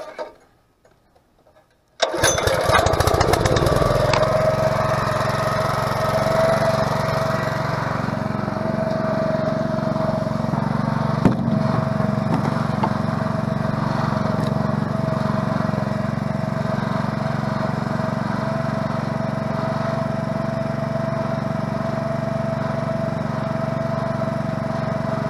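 A small motor, its broken choke newly fixed, starts abruptly after a moment of silence and then runs at a steady, even idle close by for the rest of the time.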